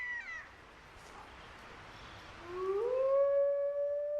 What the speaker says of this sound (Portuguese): O uivo, o chamado de Batalha do Lobo, reúne a alcateia e avisa os outros lobos para se afastarem.